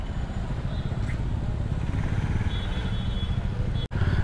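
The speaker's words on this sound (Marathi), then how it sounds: "चला तर आता भाई हिमालया 450 चालवूया" Royal Enfield Himalayan 450 motorcycle rolling through crowded Lonavla market traffic, a steady low engine rumble mixed with street noise, continuous and fairly close, with a brief dropout near the end.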